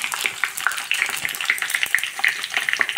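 Mustard seeds and cumin sizzle and crackle in hot oil for an Indian gooseberry pickle, a dense, bright spatter of pops running steadily throughout, close and fairly loud.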